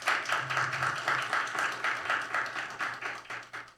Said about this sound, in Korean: 정말 큰 감사의 박수를 한번 올려드렸으면 좋겠습니다